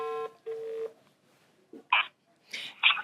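A phone call goes out, heard as two steady tonal beeps followed by short bursts of electronic chirps and clicks from the handset, close and fairly clear with brief silences between.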